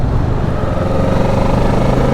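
A Kawasaki Ninja 650 motorcycle engine pulls steadily in sixth gear at about 40 mph, a loud, continuous close-up roar mixed with rushing wind and no pauses.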